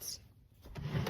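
Bottom drawers of a bedroom dresser sliding open, a soft scrape and a brief wooden rumble near the end, heard close and fairly quiet with no talking.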